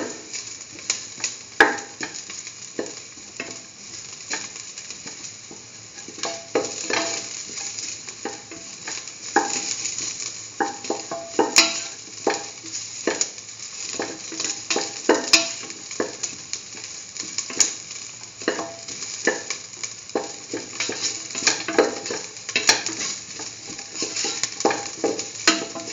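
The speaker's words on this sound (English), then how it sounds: "Keep on sauteing." A mustard, broccoli and potato mixture sautés in a pan, sizzling steadily while a utensil scrapes and knocks against the pan in frequent irregular strokes throughout.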